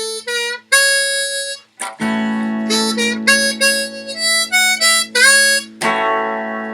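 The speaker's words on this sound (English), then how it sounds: "Now I'm playing a D harmonica" A D harmonica plays a major-key do, re, mi: short reedy notes, then a run of separate blown and drawn notes over a low sustained drone, loud and close, with no talking.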